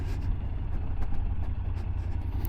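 A twin-cylinder motorcycle engine runs at a steady idle, giving a low, even throbbing rumble at moderate volume with no talk over it.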